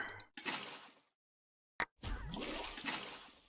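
Water placed in Minecraft (FTB Interactions modpack): short watery splashing and flowing bursts, a brief pop and then a sustained liquid wash after a pause, heard alone and close.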